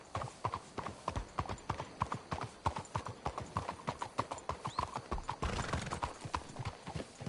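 Hooves of horses trotting in the Red Dead Redemption 2 video game, a quick, regular clip-clop rhythm that stays close and steady throughout, with a faint whinny and a brief swell of extra noise toward the end.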